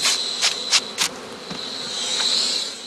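Honey bees buzzing around traditional straw skep hives on the heathlands of northern Germany, a steady thin drone with a few louder passes close by, no talk.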